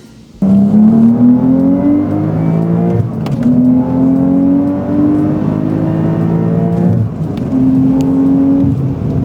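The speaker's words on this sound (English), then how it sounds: "let's get the car out on the road and see how it drives" A modified Porsche 992 Carrera S engine revs up through several gears on a road, pitch climbing steadily between quick shifts, loud and close throughout.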